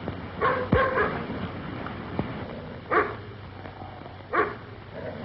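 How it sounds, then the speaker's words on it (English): A dog outside a door barks to be let in, a few sharp barks and yelps spaced across a few seconds, moderately close against a quiet room. "What's he barking for? He wants to be let in"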